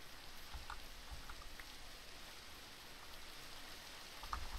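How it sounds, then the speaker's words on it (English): Rain falling in the Minecraft video game, a faint, steady hiss with scattered soft drop ticks and no voices. "This rain will probably start or stop when it gets to be daytime"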